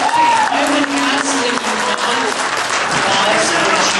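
A crowd at a public hearing in Pinetop, Arizona bursts into loud, sustained applause with scattered cheers and voices, close and continuous throughout.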